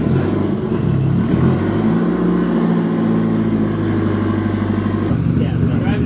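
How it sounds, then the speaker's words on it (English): Toyota Supra built by HKS driving away, a loud steady engine drone with harmonic bands that shift in pitch as it accelerates and settles, close and continuous, with voices talking over it. "Yeah, we're driving now."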